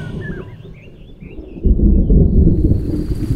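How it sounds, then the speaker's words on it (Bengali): Deep rolling thunder swells up over steady rain with faint bird chirps early on, a stormy night sound effect for an audio drama. "বাইরে মেঘের গর্জন সহযোগে বৃষ্টি পড়ছে"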